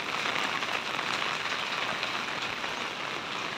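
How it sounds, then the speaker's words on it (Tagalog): Steady, gentle rain patters evenly on a surface during Typhoon Marce in the Philippines, a soft continuous hiss with no voices. "ang ulan ay medyo mahina na"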